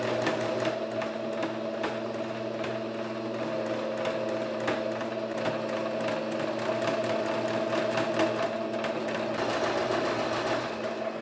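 A sewing machine topstitches the waistband of men's shorts, a fast, steady mechanical whir with rapid needle ticking that runs loud and close without pause.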